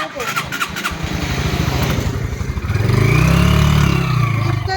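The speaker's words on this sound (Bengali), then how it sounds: "আমি তোমাদের দাদাভাইয়ের বাইকেই যাবো" A motorcycle engine idles with a quick, pulsing putter, then revs up into a louder, rising drone close by, with voices briefly mixed in.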